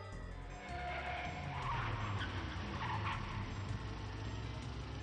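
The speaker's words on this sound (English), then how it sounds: "The rear tires slipped." A car in Steins;Gate 0 spins out as its rear tires lose grip, giving a sustained screeching skid that swells mid-clip over a low engine rumble and then fades, fairly quiet overall.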